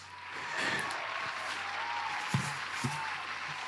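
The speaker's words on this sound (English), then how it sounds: "So round of applause to the police." Applause rings out for a few seconds, a soft broadband wash of clapping at moderate level with a couple of brief knocks, no voices over it.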